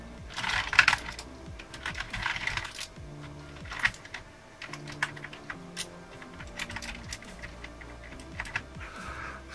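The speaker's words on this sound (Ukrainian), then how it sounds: "Отак ми перевіряємо клавіатурку." Close, fast typing on an A4Tech Fstyler FG1010 wireless keyboard, dense clattering key presses in bursts with brief pauses, heard alone without talk.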